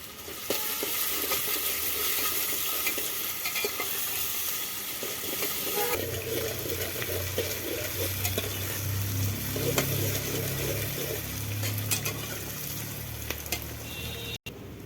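Onions frying in oil in a pan on a mud stove, with soya chunks being cooked: a steady, dense sizzle throughout, joined midway by a low rumbling bubbling, close and loud, with no talking.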